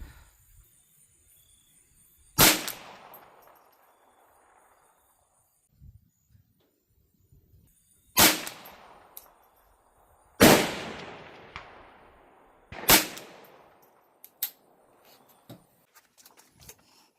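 A Ruger 10/22 Charger pistol fires .22LR rounds outdoors, four sharp cracks spaced a few seconds apart, each trailing off in a short echo, with quiet gaps and faint small sounds between.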